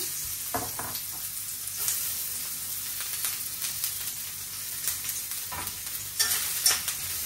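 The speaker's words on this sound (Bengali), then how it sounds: "তেল দিয়ে দিলাম, পেঁয়াজ কুচি," Chopped onions fry in oil in a pan with a continuous bright sizzle, broken by a few soft clatters of stirring, steady and close with no talking.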